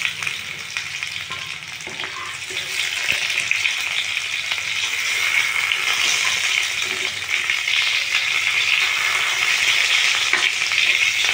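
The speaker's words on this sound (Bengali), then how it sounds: "দেখুন পটলগুলো এরকমভাবে ভেজে নেবেন" Pointed gourd (potol) pieces frying in hot oil in a home kitchen, a loud continuous sizzle and crackle that grows stronger after a few seconds, with occasional clicks of stirring and no talk.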